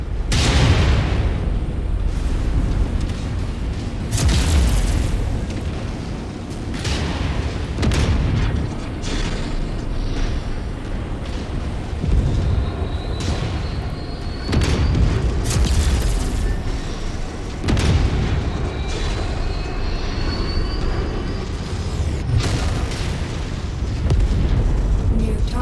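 Repeated heavy booms and blasts of enemy mechs being destroyed in a mech combat video game, a dense rolling barrage of explosions with bursts of debris, loud and continuous, with a voice speaking over parts of it.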